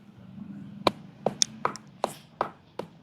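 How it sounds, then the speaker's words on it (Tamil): Green onions are pounded for a Jaffna dried fish sambal, giving seven sharp, close thuds at an uneven, steady pace, each striking crisply with a short decay over a low background hum. "இப்ப நாங்க அந்த எடுத்து வச்சிருக்கிற பச்சை வெங்காயத்தை போட்டு இடிச்சிருவோம் கடைசியா."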